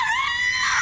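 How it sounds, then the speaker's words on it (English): A woman's high, sustained scream from a vampire horror TV show set in the 1920s, loud and close, lasting under a second. "She wasn't screaming long enough for that to happen."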